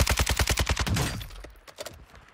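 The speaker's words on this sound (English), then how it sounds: "He starts shooting in the Fennec." Rapid automatic gunfire from the Fennec in a battle royale video game, a fast burst of close, loud shots for about a second, followed by scattered fainter shots and distant game sounds.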